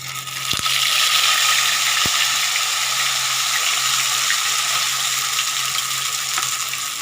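Flattened-rice (chira) pakoras fry in hot oil, a dense, continuous loud sizzle with a couple of brief sharp taps from a utensil.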